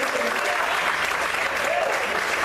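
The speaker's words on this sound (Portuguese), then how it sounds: "Aplauda o Senhor mais forte." A church congregation applauds together during a worship service, a dense, steady wash of many hands clapping that fills the space at full strength for the whole stretch, with no break in it.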